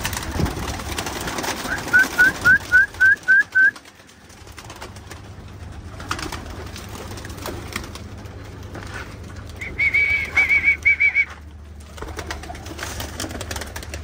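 Pigeons coo close by in a loft, with a quick run of repeated coos early on and another series later, over faint rustling and background noise.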